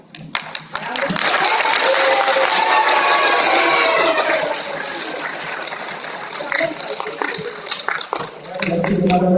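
Audience at a first-grade school awards assembly breaks into loud, steady clapping that swells quickly, holds, then thins out; a voice speaks briefly near the end.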